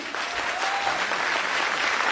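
Audience applause at a company women's day event, a loud, thick, continuous roar of many clapping hands filling the whole two seconds.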